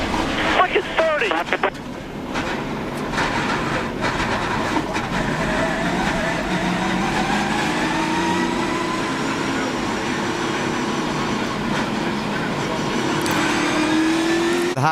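Stock cars racing in the 2008 Dollar General 300, a dense continuous roar of engines at speed with engine pitch rising and falling throughout, and an excited voice talking over the noise.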